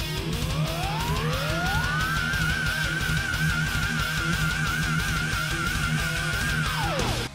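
Excerpt from a heavy metal song: dense, loud distorted band playing with a sustained high note that rises, holds steadily and then falls away near the end, continuous throughout with no talk.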